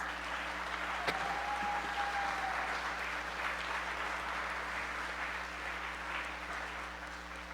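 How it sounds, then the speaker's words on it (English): Applause from the audience at a Rotary club inauguration ceremony, an even, sustained patter of many hands clapping at moderate distance, holding steady before slowly thinning toward the end, with no talk over it. "Let's give them all one applause."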